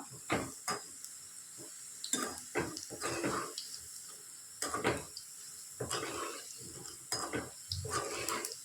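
Ragi pakoda frying in oil in a pan while being stirred, with irregular bursts of scraping and clinking from the spoon over soft sizzling, close by and fairly quiet.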